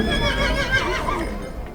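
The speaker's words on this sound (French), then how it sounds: "un mâle de 2 ans, un cheval de 2 ans qui appartient à M. Philippe Rocher" A two-year-old male Megève horse gives a loud, sustained neigh that wavers in pitch and fades slightly toward the end, heard close.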